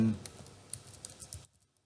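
Someone types a command on a computer keyboard while setting up Pi-hole on a Raspberry Pi Zero W. A quick run of soft key clicks is heard close up, partly under faint background noise, before it stops.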